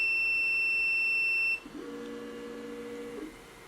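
A TevoUp Hydra 3D printer with laser module beeps: a steady high electronic tone cuts off, then a lower, softer beep holds for about a second and a half over faint background noise.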